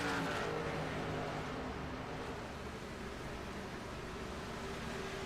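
Race cars lapping Dover during an SRL Fort Worth Screen Printing Series Round 5 event, a steady dense engine roar that swells slightly as cars pass, heard alone without talk.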